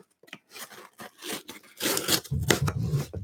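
Scissors snipping and tearing into an Owlcrate subscription box, a series of irregular close cuts, scrapes and crunches growing denser and louder toward the end, with no talk.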